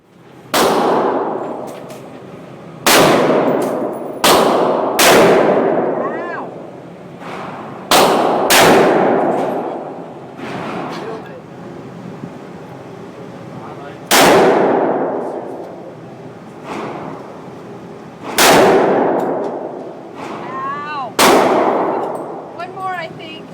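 Eleven loud, sharp gunshots ring out from a Ruger LCR .357 snub nose revolver firing .38 Special defensive ammo on a range. The shots come in uneven pairs and singles, each followed by a long ringing decay.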